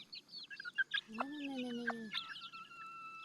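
Chicks beside their mother hen in a backyard village flock peep shrilly and without pause, with a few scattered clucks, while a voice briefly sounds in the middle.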